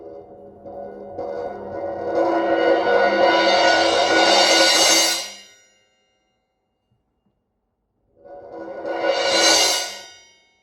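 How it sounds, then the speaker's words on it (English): A shimmering cymbal roll swells steadily louder for several seconds, then cuts off abruptly; after a pause, a shorter roll rises and is choked again. "Here's a combination of a cymbal roll, crescendo, and a choke."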